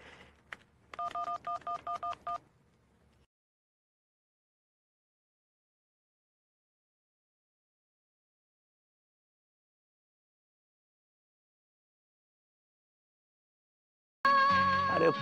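A telephone number is keyed in with a quick burst of touch-tone beeps, followed by a long silence before another electronic phone tone begins at the end.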